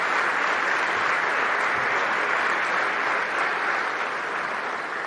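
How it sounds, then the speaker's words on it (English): A steady, dense round of applause from a sizable crowd, continuous and even in loudness throughout. "Let's give him a round of applause."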